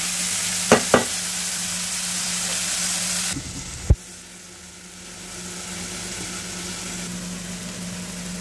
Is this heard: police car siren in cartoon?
no